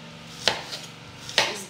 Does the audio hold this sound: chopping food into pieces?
yes